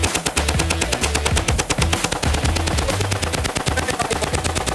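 Knight's Armament Light Assault Machine Gun firing a long continuous burst of rapid, loud, evenly spaced shots that hammer on without pause.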